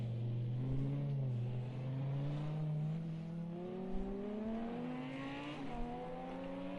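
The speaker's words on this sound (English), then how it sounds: "As you see, Yannick here in that lovely V10 Audi R8." A V10 Audi R8 GT3 race car engine in a racing game at Spa howls as it pulls through a long, rising rev, briefly shifting and climbing again, loud and continuous.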